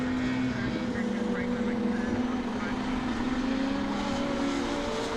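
A V6 Renault Clio rallycross car wails around Croft circuit during a British rallycross race. Its engine gives a steady, droning note in the background, beneath a voice and constant track noise.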